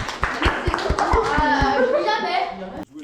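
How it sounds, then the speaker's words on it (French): Audience applause at a live show: a burst of sharp, rhythmic claps up close, mixing into a denser patter of many hands with children's voices and chatter running underneath, then cutting off abruptly near the end. "on peut quand même les applaudir"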